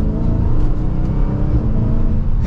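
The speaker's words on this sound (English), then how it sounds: "we are setting off now in the Hellcat" Dodge Charger SRT Hellcat Widebody pulling away in track mode, its supercharged engine a loud, deep, continuous roar heard from inside the cabin, steady throughout with no talking.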